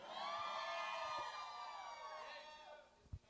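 A green team of churchgoers at an Easter worship service shouts a loud battle cry together, many voices roaring for about two seconds before tapering off, with a brief thump near the end.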